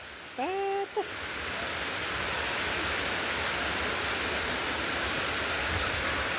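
Heavy rain pours down steadily outside a house in a constant, even hiss. It opens with a couple of brief calls or squeaks before the downpour settles in.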